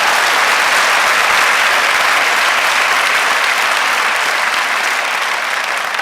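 Sustained, dense applause from a large lecture-hall audience at a university talk, steady and loud throughout with no speech over it.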